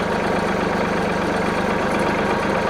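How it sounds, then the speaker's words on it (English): A Mahindra tractor engine idles close by with a steady, even chug and a low rumbling throb that never changes pace, with no voices over it. "I'm going to shut the tractor off"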